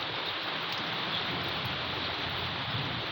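Heavy rain pours down in a dense, constant hiss of broadband noise, steady throughout with no voices.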